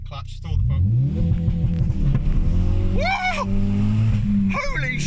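A 450 bhp Ford Focus RS MK3 on launch control holds a loud, throbbing rev, then surges forward with rising engine howl and quick gear changes, close and powerful, with people exclaiming over it.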